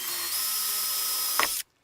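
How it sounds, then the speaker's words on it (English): A power drill widens bolt holes in a wooden deck stair stringer, whining steadily and loud for over a second and a half, with a brief bite near the end before it cuts off abruptly. "So I've widened those holes up just to make it a nice easy fit"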